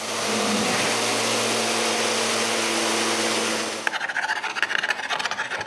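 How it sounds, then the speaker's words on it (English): Power sander working hard maple on a small wooden box, a steady close grinding whir with a rough abrasive hiss that runs continuously, then cuts off, leaving scattered handling clatter. "I finish the job with the sander"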